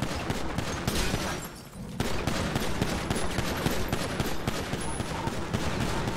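Sustained rapid gunfire in a video game train heist roleplay, dense bursts of shots continuing throughout with only a brief pause, loud and close.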